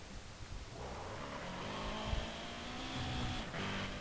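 A Lancia rally car in the Need for Speed World racing game, its engine droning and rising steadily in pitch as it accelerates along the road, fairly loud and continuous.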